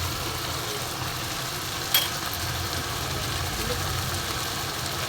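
Low, steady simmering and sizzling of a Bengali rohu fish head curry with potatoes after stone-ground garam masala is added, a constant bubbling hiss with one brief clink, no talk.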